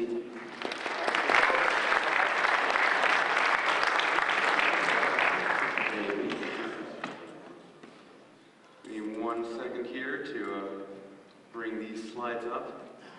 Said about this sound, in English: please give a warm round of applause for Dan Kaminsky